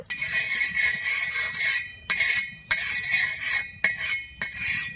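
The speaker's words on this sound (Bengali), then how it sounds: "আর তাওয়ার চারিদিকটা তেল দিয়ে আমি ভালো করে মাখিয়ে নিয়েছি" Oil being spread around a hot tawa on a stove, heard as rhythmic metallic scraping strokes of a utensil on the iron pan, about five close, bright passes separated by short pauses, with no voices.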